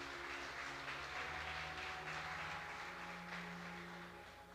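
Church congregation clapping during an evening sermon, a steady wash of many hands sustained for several seconds over a low musical drone, fading slightly toward the end.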